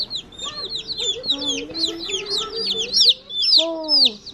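A brood of baby Ameraucana chicks cheeps near the microphone in a busy, overlapping chorus of high, rising peeps. Faint voices sound in the background.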